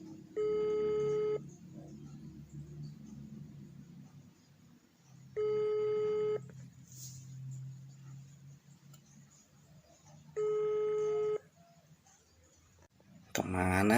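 A phone dialing tone repeats three times at steady intervals, each a sustained electronic beep lasting about a second, with quiet background between and a burst of electronic tones at the end while placing a call.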